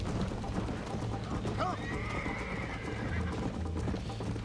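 A horse in the video game Red Dead Redemption gallops with rapid clip-clop hoofbeats and lets out a neigh partway through, while someone talks over it.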